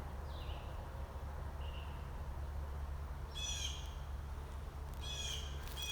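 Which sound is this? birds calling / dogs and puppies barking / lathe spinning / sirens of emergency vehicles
birds calling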